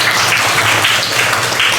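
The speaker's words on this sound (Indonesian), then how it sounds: "Tepuk tangan." Classroom applause during a lesson on cells and microscopes, a steady dense wash of clapping from a group of students that fills the whole short stretch at an even level, with no talk over it.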